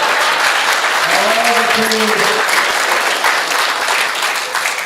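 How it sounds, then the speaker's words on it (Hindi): Dense, steady applause from a comedy show audience fills the room at full volume, with a brief spoken word and a tonal voice rising over the clapping midway. "आप लोगों को तालियां बजानी ही होगी"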